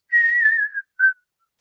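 A voice imitates a bearded seal's underwater whistle, a long descending whistle like a falling bomb followed by a short second whistle note, clear and close in silence.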